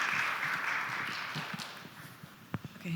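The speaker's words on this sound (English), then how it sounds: "with a big round of applause" Audience applause at an AI symposium welcoming a speaker to the stage, a broad wash of clapping that starts full and steadily fades away over a few seconds.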